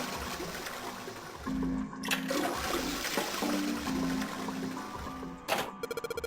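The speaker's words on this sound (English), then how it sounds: "I guess I need to get the other one to flush 4 times." In the Zero Escape: Nine Hours, Nine Persons, Nine Doors game, a toilet flushes after its string is pulled, a sustained rushing gush of water with tonal hums, ending in a sharp click and a quick rattling pulse.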